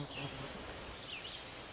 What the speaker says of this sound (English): I am getting eaten alive by mosquitoes